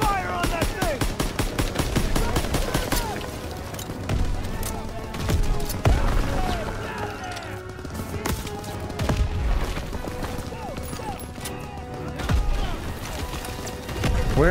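Dense, continuous gunfire rattles through a Call of Duty WWII battle, with rapid machine-gun bursts and single shots overlapping. The firing is loud and sustained, with game sounds and brief voices mixed in.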